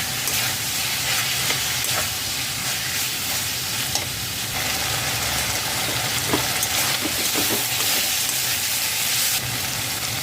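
Chicken seasoned with salt, turmeric and chili powder fries in hot oil, a loud, steady sizzle with faint stirring scrapes running throughout, no voices.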